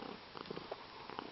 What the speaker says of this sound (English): I can hear some very loud purrs behind me